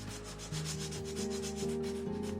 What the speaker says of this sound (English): using a file or some sanding paper, just sand away the squared edges